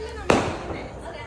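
A single sharp firecracker bang goes off close by during an Onam celebration, quickly decaying, with voices in the background.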